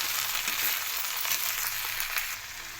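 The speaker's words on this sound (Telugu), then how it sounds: "తగినంత ఉప్పు, వేసుకొని ఫ్రై చేసుకోవాలి." Spiced food with turmeric and salt fries in a pan, giving a dense, loud, continuous hiss close up that eases slightly at the end, with no voices.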